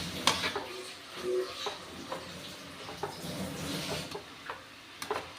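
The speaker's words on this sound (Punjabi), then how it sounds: "ਇਹਦੇ ਵਿੱਚ ਬੋਇਲ ਕੀਤੇ ਹੋਏ ਆਲੂ ਐਡ ਕਰ ਦਾਂਗੇ ਆਲੂਆਂ ਨੂੰ ਵੀ ਜੇ ਆਪਾਂ ਚੰਗੀ ਤਰ੍ਹਾਂ ਕਰ ਦਾਂਗੇ ਮਿਕਸ" Boiled potatoes being stirred into drumstick flower sabzi in a pan, with soft, close scrapes and light taps of a spoon at irregular intervals over a faint background.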